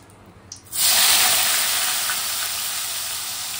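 Vegetables and turmeric hitting hot oil in a pan while cooking Maggi noodles at home, a sudden loud broadband sizzle that bursts in after a brief quiet moment and then holds steady, hissing continuously.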